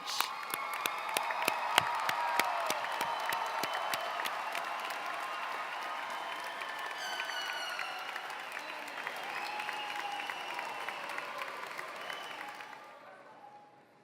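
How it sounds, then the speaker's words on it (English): Sustained applause and cheering from a large crowd at the Wilde Lake High School class of 2019 commencement ceremony, steady and dense throughout with occasional whoops, then fading out at the very end. "give these Wilde Lake High School class of 2019 a thunderous round of applause"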